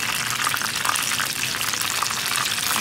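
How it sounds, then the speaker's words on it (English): Frozen lumpia sizzle loudly and steadily in hot oil over low heat, a dense crackling hiss with popping bubbles throughout and no voices. "When you hear the sizzling, it's loud."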